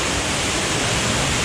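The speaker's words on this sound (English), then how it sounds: "Wow, we made it to the second waterfall." An underground waterfall in a cave pours in a loud, continuous broadband roar of rushing water, steady and close with no voices or breaks.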